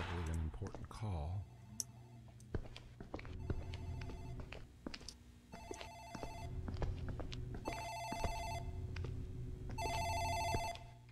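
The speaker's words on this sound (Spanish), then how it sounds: "It's the phone in the office ring." An office telephone rings in the horror game Dark Fracture, repeating bursts of bright electronic trilling that grow louder over several cycles, mixed with clicks and footsteps while people talk over it.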